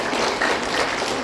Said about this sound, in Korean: 기분 좋으면 박수나 쳐보시오